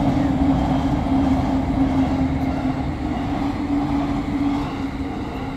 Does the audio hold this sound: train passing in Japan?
yes